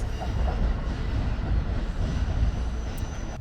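A limited express Hamakaze train departing Kasumi station on the JR San'in Line rumbles steadily nearby with a low, continuous roar of rolling wheels and engine, faint squeals rising briefly near the end.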